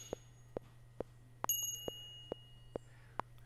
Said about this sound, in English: I was kind of muting the bell, putting my fingers on around the edge of it, so it's just kind of more of a tappy sound